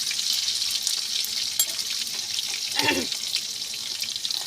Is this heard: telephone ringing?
no